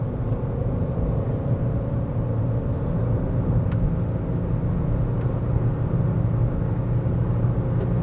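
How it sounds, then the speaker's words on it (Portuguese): Chevrolet Cobalt engine labouring to gain speed on the highway, a steady low droning rumble of engine and road noise that runs unbroken and fairly loud throughout. "o Cobalt sofre para ganhar velocidade, principalmente em velocidades mais baixas"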